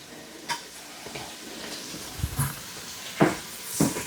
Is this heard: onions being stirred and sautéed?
yes